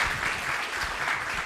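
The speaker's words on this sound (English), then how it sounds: "I urge everyone to join me in giving them an applause" Audience applause at an Indian economic outlook conference, a brief dense burst of clapping that holds steady and fairly loud with no voices.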